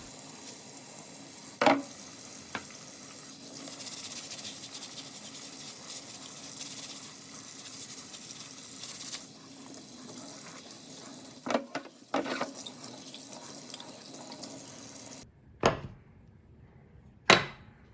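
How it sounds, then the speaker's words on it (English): Old rusty pliers washed with soap and water to remove oil: a steady hiss of running water fills most of the span, broken by a few sharp knocks and splashes, and then short bursts of water near the end. "wash them off with soap and water, get that oil out of there and dry it off"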